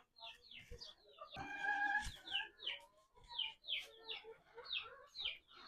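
Chickens cluck repeatedly near a small home coop in the morning, a close, rhythmic series of short calls with one louder, drawn-out squawk partway through.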